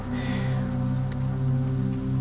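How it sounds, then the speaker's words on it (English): Heavy rain drums against a window in a steady, unbroken wash of close patter, with no voices over it. "Rain hammered against the window. Hard, relentless."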